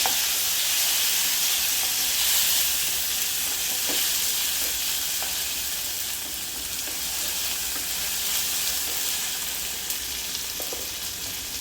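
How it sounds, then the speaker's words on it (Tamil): Tomatoes sautéing in a frying pan for Madras-style chicken curry, a steady close sizzle and hiss with occasional stirring scrapes throughout, no voices. "ப்ரௌன் ஆகிட்டானே தக்காளியை போட்டு நல்லா வணக்குங்க."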